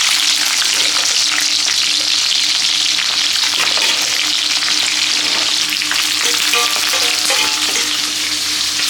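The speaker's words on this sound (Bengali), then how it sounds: "সেই তেলে আমি ক্যাপসিকাম আর হচ্ছে পেঁয়াজটা ভেজে নিব হালকা করে।" Capsicum and onion fry in refined oil that was used earlier for frying paneer, giving a steady, close sizzle with occasional stirring throughout.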